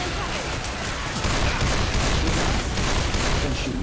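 Dense, loud gunfire in Left 4 Dead 2, a continuous wash of overlapping shots with no gaps, lasting about four seconds.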